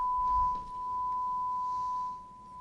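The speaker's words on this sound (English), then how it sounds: "This is a sine wave." A pure, steady sine wave test tone is played during a physics of music and sound demonstration. It holds a single unwavering pitch throughout over a faint room hum, with a low thump near the start.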